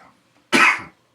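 A single sharp, loud cough close to the microphone, a short burst in near silence.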